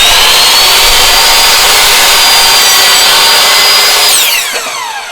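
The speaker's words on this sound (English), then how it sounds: "So I set up my miter saw here." A miter saw whines steadily through wood at close range, its high-pitched cut holding for several seconds before the blade spins down near the end.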